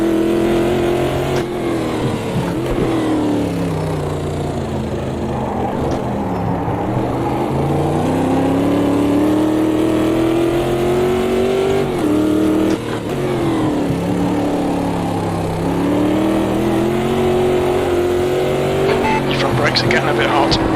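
Group 5 Greenwood Corvette race car in Automobilista 2, racing at Estoril: a loud, sustained engine drone that rises and falls through gear changes for the whole stretch, with someone talking over it.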